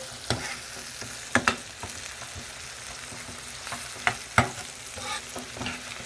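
Sliced plantains frying in a pan for a plantain-and-egg frittata, giving a steady low sizzle broken by a few sharp pops and stirring clatters, with no talk.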